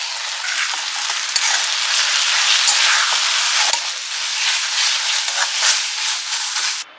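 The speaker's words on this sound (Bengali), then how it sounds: "এবার জাস্ট পোস্তটা অ্যাড করে দিচ্ছি, দিয়ে ভাজা ভাজা করতে হবে।" Onion and poppy seed paste fries in a pan with a steady, close, loud sizzle and crackle, stirred now and then with a few sharp scrapes.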